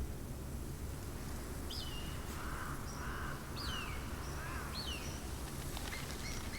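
Repeated bird calls, including crow-like caws, sound faintly in the nature ambience of the video game Final Fantasy XIV: Shadowbringers, spaced every second or so over a steady background hiss.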